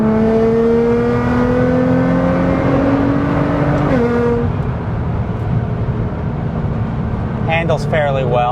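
Modified Nissan GT-R engine droning loud and close while driving, pitch climbing steadily, then a shift drop around the middle, with interior cabin rumble continuing after.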